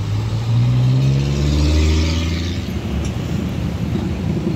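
A Sinar Jaya bus with 25S bodywork passes close by on the road, its engine rising in a loud drone and then fading into steady rumbling road noise.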